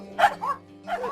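A dog gives three short, fairly loud barks, two close together and then one after a pause, over a faint steady hum.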